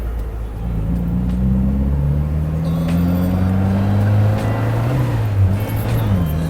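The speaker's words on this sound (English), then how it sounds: "I did what's called a rev match there" An MG Midget MkIV roadster engine drones loudly close by, its pitch rising and falling as it downshifts with a rev match, with no talking.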